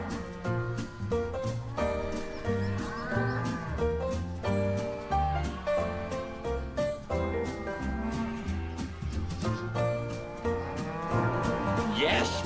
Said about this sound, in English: Yes, you're a lovely cow, and I have a delivery for you.